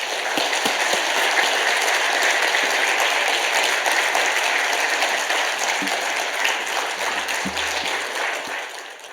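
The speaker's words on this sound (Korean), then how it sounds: "우리 박수로 이 자리로 모시도록 하겠습니다" Korean church congregation at a Wednesday evening worship service claps to welcome a visiting pastor, a broad, continuous roar of many hands filling the hall and slowly easing off near the end, with a few low thumps.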